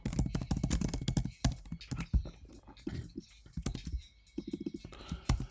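Rapid, busy keystrokes on a computer keyboard, loud and close, running in uneven bursts with brief pauses.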